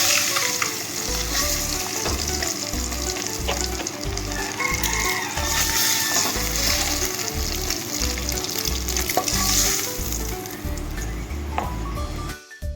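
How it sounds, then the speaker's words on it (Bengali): Eggs frying gently in oil for a Bengali egg and potato curry, a steady close sizzle with spatula stirs and scrapes running throughout. "খুব কড়া করে আমি ভাজবো না ডিমটাকে হালকা হালকা ভাজবো"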